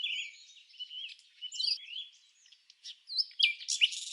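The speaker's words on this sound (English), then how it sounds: "Let's meet the ever-chatty common bulbul." A common bulbul in Morocco chatters in quick, varied bursts of high chirps and tweets, close and clear against a quiet background.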